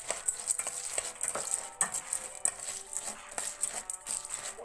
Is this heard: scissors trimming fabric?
no